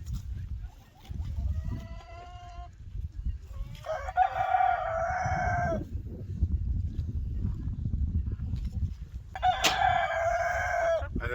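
Backyard chickens cluck and a rooster crows twice, loud and close, with a steady low hum of farm ambience underneath and no voices.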